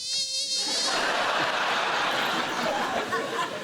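A person imitates a mosquito's whining buzz as a mock alarm call on a comedy panel show, a thin nasal drone under a wash of studio audience laughter and chatter.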